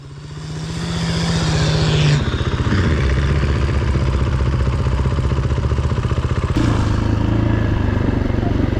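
Dirt motorcycles ride the legendary Dakar rally tracks in Morocco, engines droning loud and steady close by with a rough pulsing rhythm and shifting pitch as they accelerate and pass.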